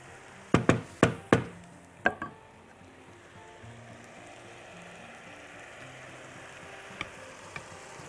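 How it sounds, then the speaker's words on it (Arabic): Several sharp knocks, likely eggs cracked against a pan edge, come in a quick cluster and then one more, over a steady sizzle of minced meat frying for shakshuka, with two faint taps later and no talk. "بسويها كده وابتدي احط البيض بتاعي."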